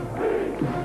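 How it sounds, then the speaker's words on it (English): Rugby league crowd of Leeds Rhinos fans at a home match against Salford lets out a brief, swelling cheer and shout, heard from a distance. "And he gets a big cheer from the Leeds fans."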